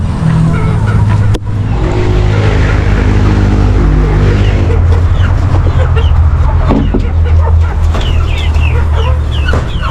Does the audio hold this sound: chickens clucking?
yes